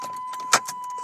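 Keys jangle at the ignition of a 1992 GMC Typhoon while a steady electronic chime tone sounds. There is one sharp metallic clink partway through and a softer rattle after it, all close and brief.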